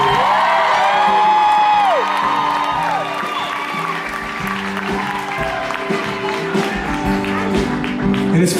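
A large concert crowd at a show in Atlantic City cheers, whoops and claps loudly and continuously. Whistles and shouts rise out of the roar.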